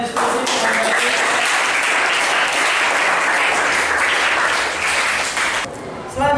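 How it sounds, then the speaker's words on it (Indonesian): A classroom of students breaks into loud, sustained applause after a class discussion, clapping continuously for about six seconds before stopping abruptly. "Beri aplaus untuk kita semua sudah diskusi."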